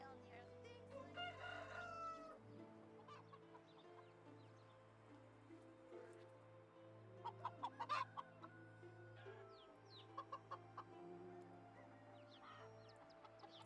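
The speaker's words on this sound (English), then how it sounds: "so this is where we buy chickens" Chickens in the medieval game Medieval Dynasty, clucking and crowing over a low steady hum, with sharp clucks clustering in the middle and scattered calls throughout.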